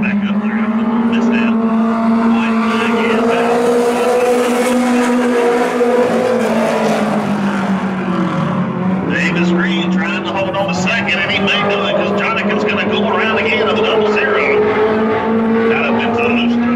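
Mini stock race cars in a heat race at Oglethorpe Speedway Park roar past in a loud, continuous engine drone with rising and falling pitch, while an announcer commentates over them.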